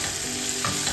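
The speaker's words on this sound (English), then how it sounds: "Saute for a minute." Garlic and sliced onion sizzle and fry steadily in a pan, a continuous close hiss with a brief stirring scrape near the end, no talking.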